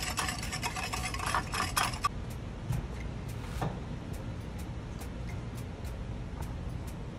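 Brown sugar, granulated sugar and cinnamon powder stirred together in a bowl with a utensil, giving a steady close scraping and gritty swirling, busier and louder for the first two seconds, then softer with occasional taps.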